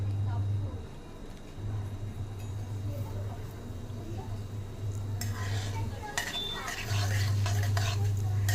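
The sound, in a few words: stir-frying urad dal in pan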